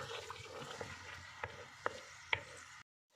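Ground boiled onion frying with butter and garlic-ginger paste in a pot for mutton white handi, a soft, low sizzle with a few sharp spoon scrapes and taps from stirring, ending abruptly in silence.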